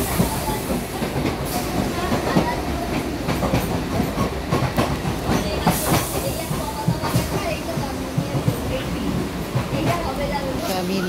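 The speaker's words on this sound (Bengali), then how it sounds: "ট্রেনের মধ্যে আছি একটু দাঁড়িয়ে।" A moving passenger train, heard from inside near the door of an empty ladies' compartment during heavy rain, gives off a steady, loud rumble with continuous rail clatter and rushing noise throughout.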